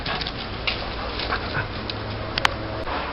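Three dogs making small whimpers and yips over a steady background noise, with one sharper, brief cry standing out near the end.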